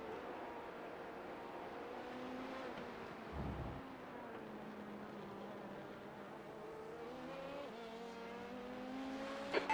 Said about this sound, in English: Okay, Shane, there's a faster car approaching.